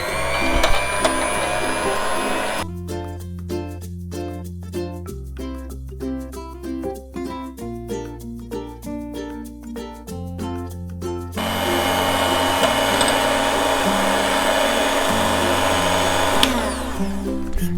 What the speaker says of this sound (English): Now let's froth the milk with a hand mixer.